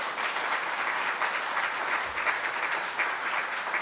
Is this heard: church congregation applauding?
yes